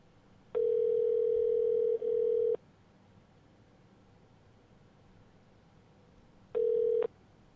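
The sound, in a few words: telephone dial tone and dialing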